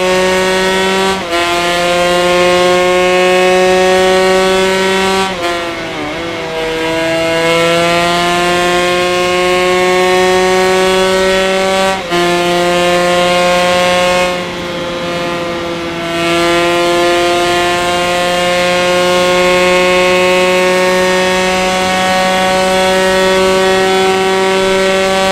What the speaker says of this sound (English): The 1987 Suzuki RG500 is a two-stroke inline-4 with a 499 cubic centimeter engine